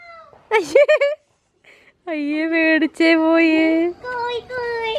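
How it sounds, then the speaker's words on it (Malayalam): A cat meows several times in short, drawn-out cries close by, with pauses between them, mixed with a person talking. "ആ പൂച്ചണ്ടേ."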